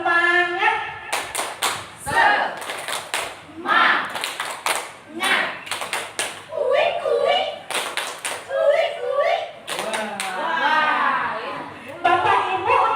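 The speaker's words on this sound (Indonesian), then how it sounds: "Oke, tepuk semangat." A group of people in a workshop session performs a rhythmic spirit clap, bursts of sharp hand claps in a patterned rhythm alternating with chanted voices, close and lively.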